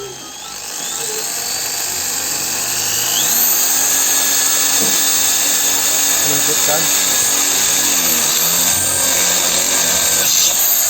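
A handheld power drill bores holes in an AHM motorcycle exhaust muffler, its whine spinning up in pitch and then holding a loud, steady, piercing tone, with a short spoken word in between.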